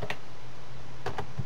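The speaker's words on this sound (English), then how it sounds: "typing Japanese" A few quick keystrokes on a computer keyboard while typing Japanese in Microsoft Word: a short burst near the start and another small cluster near the end, close and fairly quiet, separated by a near-silent pause.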